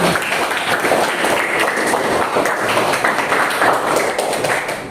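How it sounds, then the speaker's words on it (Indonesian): Students applauding in a school classroom at the end of a social studies lesson, a dense, steady wash of clapping that stays loud and even throughout. "Oke, luar biasa, tepuk tangan."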